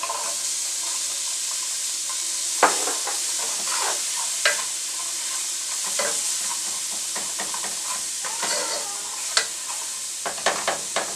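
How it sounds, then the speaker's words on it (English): Minced onions fry and are stirred in a pan over lowered heat, a steady close sizzle broken by scraping, clacking stirs with no talk. "And I have minced onions."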